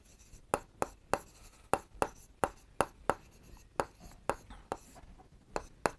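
Chalk or marker writing a formula on a board, a series of about eighteen sharp tapping strokes in an uneven rhythm, close and clear with no talk.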